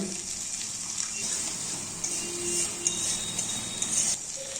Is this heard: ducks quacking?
no